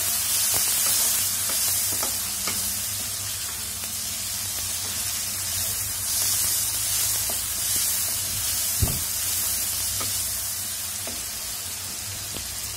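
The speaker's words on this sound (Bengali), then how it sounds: "এখন চুলোর আঁচটা কমিয়ে প্রায় 2 থেকে 3 মিনিট ধরে ক্যাপসিকাম এবং পেঁয়াজগুলোকে সিদ্ধ করে নেব।" Capsicum and onions cook in a pan over low heat for chilli chicken, giving a steady, even sizzling hiss throughout with a few faint clicks and taps and no talking.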